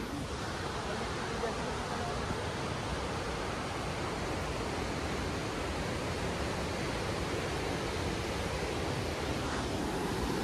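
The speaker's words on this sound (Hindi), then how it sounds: "पानी का शोर काफी आ रहा होगा" A river rushes beside a mountain trail near Naggar, producing a steady, loud broadband roar of water that stays constant throughout.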